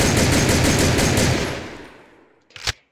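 An M3A1 submachine gun in the video game Soldier of Fortune II fires a loud, rapid burst of rhythmic shots. The burst decays into a fading tail and ends with a sharp mechanical click.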